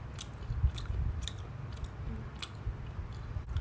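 Close, crunchy chewing of a black pepper glazed almond: a run of soft bites and grinding mouthfuls over about three and a half seconds, with no talking.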